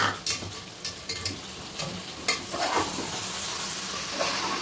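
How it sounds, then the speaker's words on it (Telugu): Tomato stirred into country chicken curry frying in a pan, with steady sizzling and intermittent scraping stir strokes that build into a louder continuous fry toward the end. "ఒక పెద్ద మీడియం సైజు టమాటా వేసుకుంటున్నాం."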